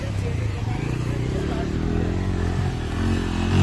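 A Hayabusa motorcycle stuck in a muddy bog rumbles with a steady, loud engine drone while it is pushed, with people talking over it throughout.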